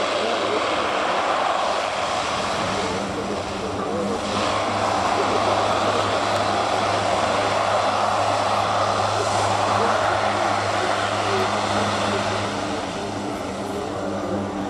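A four-engine military transport aircraft applies reverse thrust on landing at RNAS Yeovilton during an air day, with a loud, sustained propeller and engine roar and a steady low drone throughout the whole stretch.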